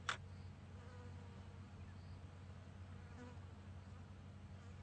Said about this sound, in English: you can probably even hear all the flies buzzing around us